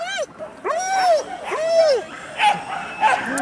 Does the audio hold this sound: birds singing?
no